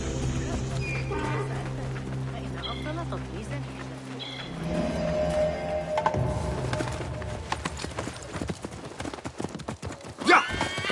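In a video game, hooves clip-clop at a steady trot while a horse whinnies, with voices talking over the scene and a sharp neigh near the end.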